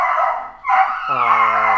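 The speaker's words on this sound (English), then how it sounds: "That's the dog." A dog howls and whines in the background of a fighting-game podcast recording, starting with a rising tone and then holding a sustained, tonal cry that overlaps nearby talk.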